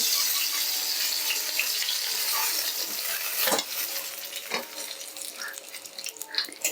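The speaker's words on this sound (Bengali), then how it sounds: "এইভাবে আমি আরও দুটো মাথা ভেজে নেব" Hilsa fish heads fry in oil in a pan, a continuous sizzle with occasional sharp clinks and knocks of a utensil stirring.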